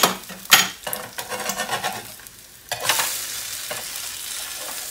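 Eggs fry on a greased griddle inside rings, a broad sizzle punctuated by sharp metal clinks and scraping of a spatula, with a louder hiss rising near the end.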